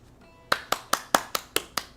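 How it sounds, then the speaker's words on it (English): A single pair of hands claps close by in a steady, evenly spaced rhythm, about eight crisp claps over a couple of seconds, with no crowd joining in. "Applause is always welcome."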